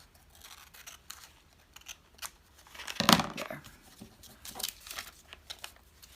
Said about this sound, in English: and then I'm just going to trim it this way.